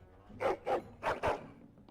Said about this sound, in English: That is one happy dog.